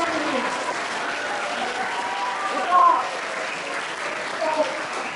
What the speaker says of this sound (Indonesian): mari kita beri tepuk tangan untuk memasuki performa ini